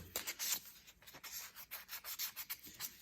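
Quick rhythmic rasping strokes of hand sanding on stained wood being made into a wand on a lathe, steady back-and-forth scrubbing, soft and close with no talking.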